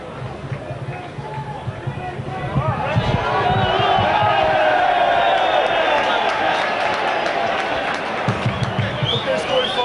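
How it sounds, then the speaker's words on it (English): Chesterfield fans in the cricket field stand of a football stadium applaud, their clapping and crowd noise swelling partway through and holding loud, with a match commentator talking over it. "applause of the Chesterfield fans over in the cricket field stand there"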